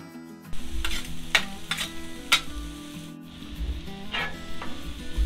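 Onions hit oil on a Blackstone griddle and sizzle steadily, with a few sharp spatula scrapes and clicks against the flat top, close and fairly loud with no voices.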